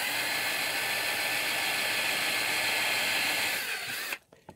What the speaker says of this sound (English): So now I'm going to drill out the back one.